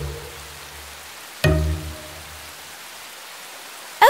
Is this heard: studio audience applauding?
no